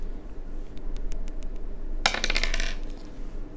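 Metal coins clinking together during a Foodies board game, faint taps first, then a bright burst of jingling as several coins drop and settle, with no talk.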